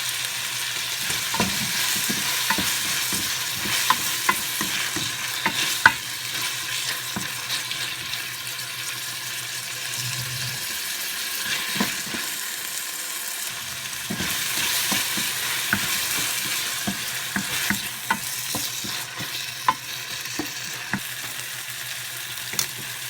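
Tomatoes sauté in a pan for chicken afritada, a soft continuous sizzle under frequent scraping and clinking of a spoon stirring, with a short pause midway before stirring resumes.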